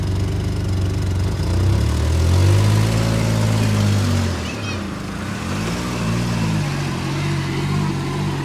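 A mud-caked vehicle's engine idles with a steady low rumble throughout, its hum shifting slightly in pitch, while people talk close by.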